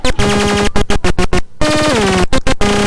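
Loud electronic bleeps from an Analogue Solutions Cranial Saw modular synthesizer in rapid choppy pulses, with sustained buzzy tones that slide in pitch between bursts, synthetic and cosmic-sounding.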